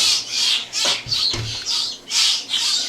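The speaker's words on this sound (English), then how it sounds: "these are northern flickers" Northern flickers at a wildlife center's bird area give repeated loud, harsh squawking calls in bursts, close by, with faint background noise between them.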